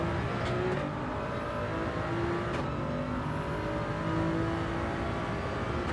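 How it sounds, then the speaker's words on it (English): Race car engine in Gran Turismo 7 holding a steady loud drone with rising and falling revs as it hard downshifts, a couple of sharp gear-change blips cutting through, no voices. "let's see if we can hard downshift properly"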